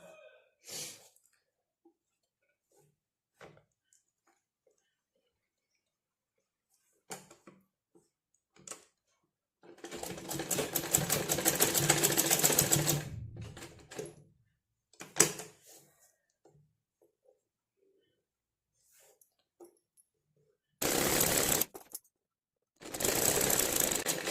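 A sewing machine stitches a V-shaped neck binding in a tailoring job, running in three separate bursts, one long run and two short ones, with near silence and a few light handling knocks between them and no talking.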